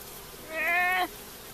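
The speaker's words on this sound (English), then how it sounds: "I got a bee on my hand." A single brief, close buzz from honey bees during a beehive inspection, a bright droning tone that swells for about half a second and then stops against quiet outdoor background.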